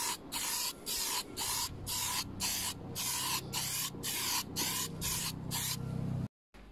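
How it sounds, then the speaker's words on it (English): Spray paint can misting very light blow-over coats of primer onto a molded white van body for a model wagon rod, in about a dozen short regular bursts close by, alone without talk. "I've already given the can a good shake. Very, very light coats for a start,"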